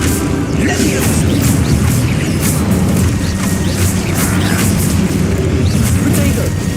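Spell explosions from the video game Hogwarts Legacy repeat as dense, loud booms and crashing bursts throughout. A voice keeps shouting over the blasts.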